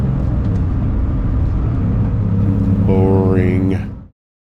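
A modified 1984 Porsche 911 Coupe engine starts and runs with a loud, steady, rough mechanical roar. A tonal whine rises near the end before the sound cuts off abruptly.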